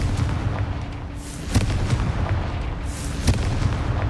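Confringo blast spells firing in Hogwarts Legacy: two sharp booming bursts about two seconds apart over a steady rumbling game background, no talk.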